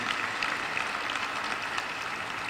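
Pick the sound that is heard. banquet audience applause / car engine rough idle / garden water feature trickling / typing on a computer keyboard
banquet audience applause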